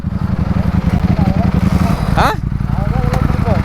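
A KTM off-road motorcycle engine at a dirt-riding event rumbles close by with a throbbing, pulsing idle that holds steady throughout, while people talk over it.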